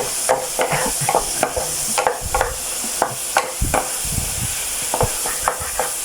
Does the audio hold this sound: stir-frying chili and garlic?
yes